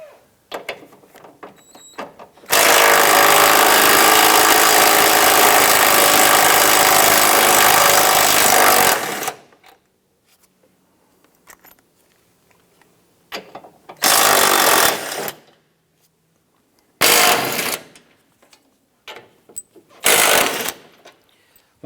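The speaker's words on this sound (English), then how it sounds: "we're going to loosen and remove the 2 15/16 bolts on the driver's side" Power tool loosening strut tower brace bolts on a 2005-2007 Ford Five Hundred, a long loud rattling burst of about seven seconds followed by three shorter bursts with quiet gaps between them.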